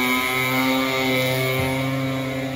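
A tuned moped with its original clutch holds a steady, loud, buzzing engine note that stays nearly constant throughout, with only a small dip partway through.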